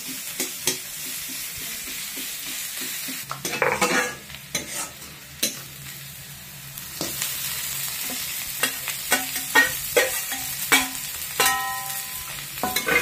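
Onion frying in oil in a pan before greens go in, a continuous sizzle broken by frequent stirring scrapes and clinks, close up and with no speech.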